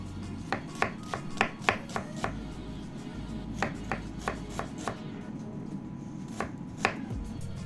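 A knife chopping an onion on a cutting board, crisp close taps in quick bursts and short runs with brief pauses between, alone with no voices.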